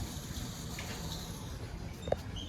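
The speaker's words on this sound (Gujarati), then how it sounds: "હું નીચે જઈને મોટર ચાલુ કરી આવ્યો એટલે આ ટાંકો અમારે ભરાઈ જાય જો અવાજ આવે" An electric water pump motor fills a water tank, giving a faint, continuous gush of running water with one small splash near the end.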